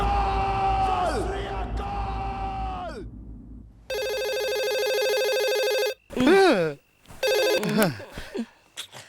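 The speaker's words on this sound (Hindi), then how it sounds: "किसका फोन है?" A telephone rings in repeated electronic bursts, loud and close, with pauses between the rings, while voices are heard before it and shouting voices follow.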